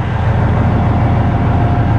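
A Peterbilt truck engine fitted with a new muffler rumbles loud and steady at close range, a deep continuous drone with no break.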